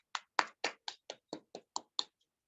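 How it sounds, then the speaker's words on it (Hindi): About nine distinct hand claps ring out one after another at a steady, fairly quick pace during an online Q&A session, sharp and close, fading out at the end rather than building into full applause. "मैं एक जोरदार तालियां चाहूंगी दोस्तों सभी के लिए"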